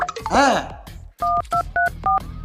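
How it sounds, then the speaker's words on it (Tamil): Telephone keypad tones beep in a quick series of short, evenly spaced dual-tone presses, following a brief burst of sweeping electronic sound, with no voices heard. "ஒருத்தருக்கு ஃபோன் அடிக்கிறேன்"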